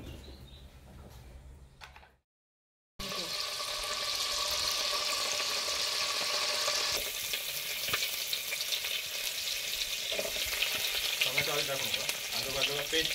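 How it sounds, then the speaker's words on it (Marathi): Spice paste roasting and sizzling in a hot pan for chicken vade, a steady frying hiss with stirring scrapes after a brief silent gap, close and loud. "पेस्ट भाजून घे चांगली मस्त."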